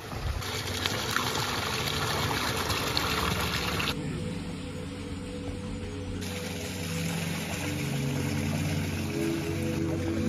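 Warm spring water flowing steadily at Jhar Mahadev in Udaipur, a continuous close gushing wash that runs unbroken throughout with no talk over it.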